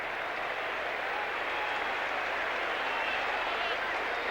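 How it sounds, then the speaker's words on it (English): A stadium crowd at the MCG applauds during the 1987 VFL semi-final between Melbourne and Sydney as a player leaves the ground: a continuous, even wash of distant clapping and crowd noise. "Clapping is for O'Dwyer coming off the ground"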